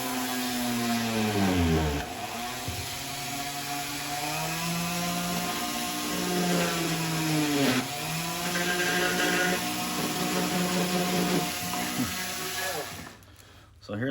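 A WEN rotary tool drills for a long stretch with a steady high whine. Its pitch dips sharply twice under load and then recovers before the motor cuts off near the end.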